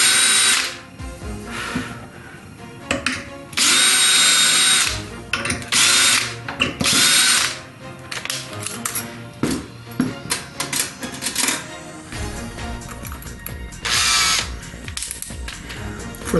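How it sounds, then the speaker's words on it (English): A power drill with a 1/4 inch bit bores through a metal plate in repeated bursts, loud whining drilling alternating with pauses and clicking, clattering handling noises between runs. "So we're going to take a 1/4 inch drill bit."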